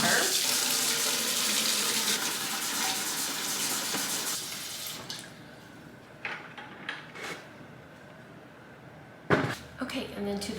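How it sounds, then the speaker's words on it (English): Hot water gushes from a tap into a 5-gallon bucket, a loud steady rush for about five seconds, then stops, followed by quieter clunks and handling sounds. "I'm gonna fill up my 5-gallon bucket halfway with hot water"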